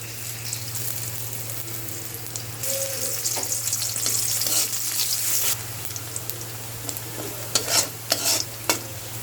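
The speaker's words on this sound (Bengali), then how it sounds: "এদিকে বন্ধুরা তেল দিতেছে, পেঁয়াজ রসুন দিতেছে একসাথে।" Onion and garlic fry in hot oil with a steady sizzle, loudest in the middle stretch, while a spoon scrapes and stirs the pan in a few sharp knocks toward the end, all under a constant low hum.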